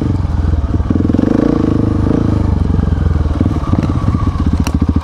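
A KTM 690 or Honda Africa Twin motorcycle on a dirt trail, its engine loud and near with a steady throbbing thump, plus clattering and crackling over rough ground.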